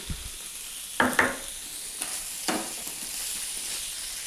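Coriander and cumin powder masala frying in a pan, a soft continuous sizzle with a few distinct clinks and scrapes of stirring near the start, close and fairly quiet, no voices.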